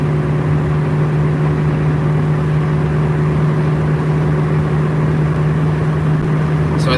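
A Ford Mustang cruising at steady speed on an open road, its engine holding a constant low drone with road and wind noise throughout, loud and close from inside the car.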